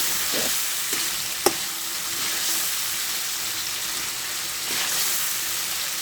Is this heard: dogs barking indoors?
no